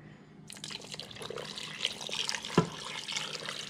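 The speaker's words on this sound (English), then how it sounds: "And now I'm gonna add the water." Water is poured into a Bella pressure cooker for a beef stew, a faint, close splashing trickle starting after a brief pause and continuing unevenly, with a small clunk partway through.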